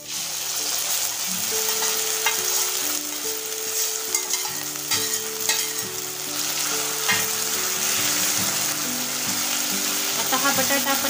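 Potato being stirred into browned, caramelized sugar in a pan for fasting-day potato shira, with a steady sizzle and repeated scraping stirs close up, no talking.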